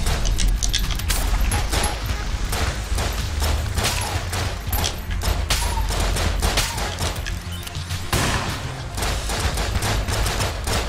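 Dense, nonstop gunfire and bullets flying in Enter the Gungeon, loud rattling shots layered thickly with game music underneath, and no pauses.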